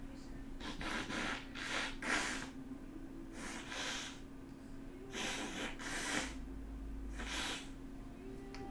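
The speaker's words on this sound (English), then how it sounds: "excuse me. And blow my nose" Someone blows their nose several times in short, breathy, snorting bursts, faint and muffled as if turned away from the microphone, with talk in between.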